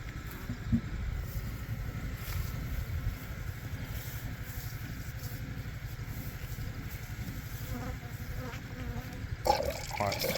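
Honeybees swarm a syrup feeder holding about eight litres, a continuous close buzzing hum with a liquid trickle beneath it and a few brief knocks toward the end.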